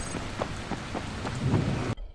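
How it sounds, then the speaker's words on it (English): Steady rain with low thunder rumbles in the zombie survival video game Dying Light, a dense, even wash of falling rain with a few soft pulses before it cuts off abruptly. "Wow, this is the first time it rained."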